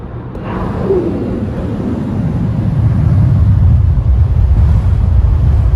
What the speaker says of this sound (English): I'm gonna open the moonroof and we can compare the wind noise.